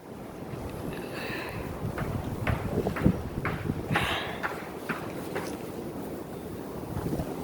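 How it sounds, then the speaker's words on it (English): Strong gusting wind during a windstorm in Ronkonkoma, New York, roaring steadily against the microphone with rumbling buffets and scattered sharp knocks and rattles, loud and continuous with no talk. "It's a windy day"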